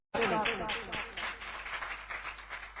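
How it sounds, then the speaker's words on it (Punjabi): Church audience applauding a pastor, a burst of many hands clapping that starts abruptly, stays fairly steady, then thins slightly, heard at a moderate distance with no voice over it. "ਤਾਲੀ ਵਜਾ ਦਈਏ ਰੱਬ ਦੇ ਦਾਸ ਲਈ"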